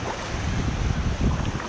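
Sea waves at a beach in Spain, a close steady wash of surf mixed with wind rumble on the microphone, with no talking.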